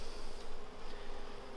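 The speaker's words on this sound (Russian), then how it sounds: "Пчелы, воровки заходят или пытаются на свет выскочить" Robber honey bees buzz densely around a hive with nearly empty frames, a continuous close, steady drone of many wings without any voices.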